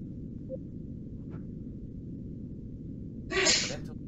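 A single sharp sneeze bursts out near the end of the short stretch over a steady low background hum from a space combat game session, otherwise quiet.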